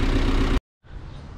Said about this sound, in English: Are you worried about me revving it up cold?